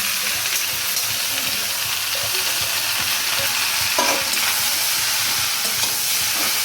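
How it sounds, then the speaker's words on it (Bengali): Bottle gourd tipped into spiced masala frying in a pan, a loud continuous close sizzle and hiss with a brief splash of stirring partway through, no voices. "এবার আমি লাউটা ঢেলে দিলাম এর মধ্যে"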